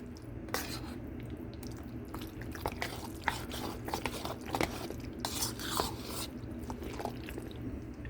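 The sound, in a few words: mixing tuna salad with finely diced white onions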